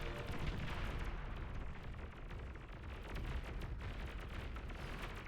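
A D-gun shot amid battle in a real-time strategy game match, a dense, continuous rumble of cannon fire and explosions with crackling bursts, loud and sustained throughout.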